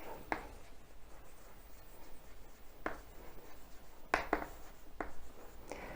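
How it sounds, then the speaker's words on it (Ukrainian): Writing out a definition during an eighth-grade chemistry lesson makes faint, intermittent scratchy strokes over a low steady room hum, with short sharp scrapes spaced a second or so apart and no voice. "давайте писати визначення"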